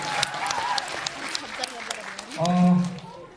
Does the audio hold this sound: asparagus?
no